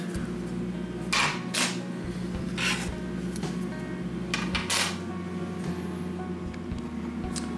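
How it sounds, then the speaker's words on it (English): Wooden go bars are pulled off the braces glued to a three-piece walnut guitar back in a woodworking shop, giving scattered light wooden clicks and rubbing knocks over a steady low background hum. "I've just taken the go bars off braces"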